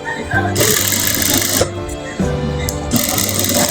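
A sewing machine stitches cushion fabric, printed star cloth layered under striped cloth, in bursts of rapid mechanical chatter with brief pauses between runs, loud and close.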